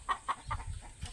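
Chickens on a small farm give a few short, soft clucks in quick succession at moderate distance, with faint low rustling between them and no speech.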